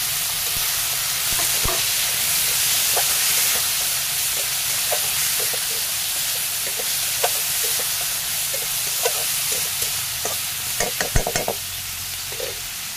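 Papaya flower bhaji fries in a pan with a steady, loud sizzle throughout. Scattered clicks and scrapes of stirring grow busier toward the end.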